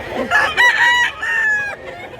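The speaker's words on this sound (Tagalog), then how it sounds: "Mga manok nila." Roosters for sale at a market in Mantalungon, Cebu, crow and cluck up close, with overlapping loud drawn-out calls that fade out after about two seconds.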